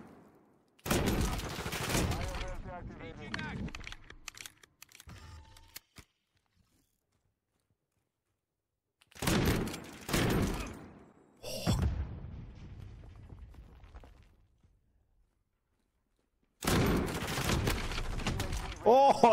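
Rapid bursts of automatic gunfire from the video game Modern Warfare II come in three separate loud volleys with short pauses between them, close and punchy, with no talk over the shooting.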